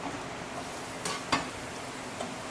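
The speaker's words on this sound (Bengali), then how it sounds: "আর এখান থেকে বাটার 1 কিউব কেটে নিয়েছি, এটা কিন্তু দিয়ে দেবো কড়াইয়ের মধ্যে" A cube of butter sizzles in a hot wok before tuna fish goes in, a soft steady frying hiss close by, broken by a couple of sharp clinks or scrapes, with no one speaking.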